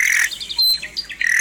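Nearby nightingale song outdoors near its nest: loud, varied chirps and whistled trills with a brief pause in the middle, heard clearly without any voices.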